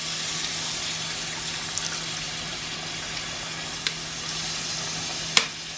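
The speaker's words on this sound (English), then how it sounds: "let's get this water in" Water poured into a sizzling pan of pepperoni and chicken vindaloo, a steady broad hiss and bubbling close by with a few small clinks of a utensil.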